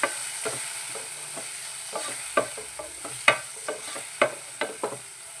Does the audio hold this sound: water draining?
no